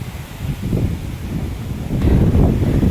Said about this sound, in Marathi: चल वारा भरपूर सुटलाय कपडे इकडून तिकडे जातात